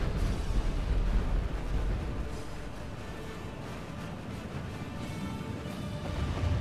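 Mortar shells exploding among a horde of 5000 zombies in a Medieval 2 Total War mod battle, a continuous rumbling barrage of low booms and crashes, dense and moderately loud with no voices.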